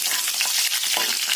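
Ridge gourd sizzling in hot oil in a pan while being stirred, a dense, continuous crackle and hiss with small scraping bursts, close up and without any voices.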